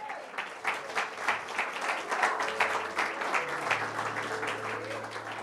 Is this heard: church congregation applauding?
yes